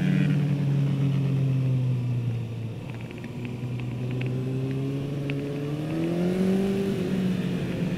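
A Ninja motorcycle laps a race track, its engine holding a loud, steady drone that drops briefly and then climbs in pitch as the rider accelerates out of a turn, with faint ticking beneath and no talking.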